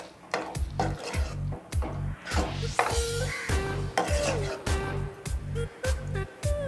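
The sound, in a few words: stirring and mixing food in a pan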